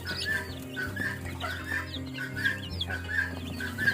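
Many small, high-pitched peeps chirp repeatedly and overlap at a steady, busy pace from a crowd of one-to-two-week-old chicks close by over a low background hum.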